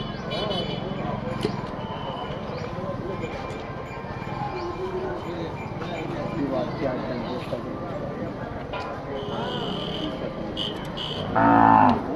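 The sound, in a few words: cattle mooing at temple fair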